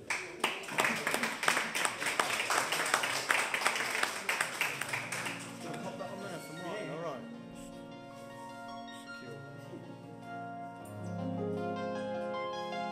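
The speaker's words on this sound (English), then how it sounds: "let's give a big round of applause for James Glew" Applause for comedian James Glew at an EMOM Birmingham night: a close, lively burst of many hands clapping that fades after about six seconds into quieter background sound.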